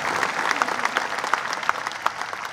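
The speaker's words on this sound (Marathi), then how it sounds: "जोरदार टाळ्या वाजवून त्यांचं या ठिकाणी स्वागत करूया." Loud applause from a crowd at a large gathering welcoming a cabinet minister, steady clapping with a few sharper individual claps standing out.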